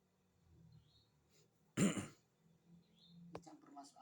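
A sick child gives a single sharp, close cough near the middle of a quiet stretch, with faint breathing and small noises around it.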